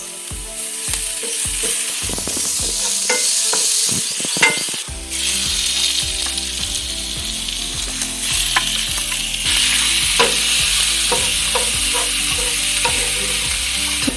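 Garlic and onion frying in a pan in a home kitchen, a loud continuous sizzle with rhythmic clacks and scrapes of a utensil stirring, heard close with no voices.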